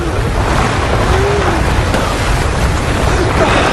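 Tsunami flood water and surging waves in the film The Impossible, a dense, steady roar of rushing water that stays loud throughout with no break.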